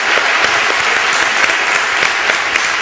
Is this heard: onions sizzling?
no